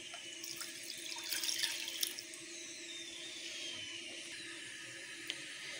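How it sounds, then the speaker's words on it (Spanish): Half a cup of water poured into a small pot, a soft running trickle that swells briefly then settles into a faint steady stream, close by and quiet, with no talking. "Le voy a echar media taza de agua."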